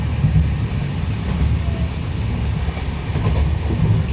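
A train at a station gives off a loud, close rumble with rolling rail noise and gusts of wind buffeting the microphone.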